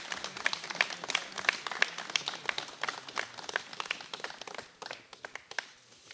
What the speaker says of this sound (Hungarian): Tapsoljátok meg!